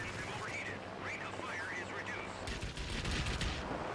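A Mitsubishi A6M1 Zero in World of Warplanes fires its cannon in short controlled bursts, rapid rattling shots close and loud over engine drone, with a denser volley toward the end.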